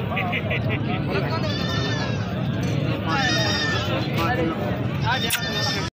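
Goats at a livestock market in Dera Ghazi Khan bleat repeatedly in wavering cries, close and loud, over crowd noise while someone talks.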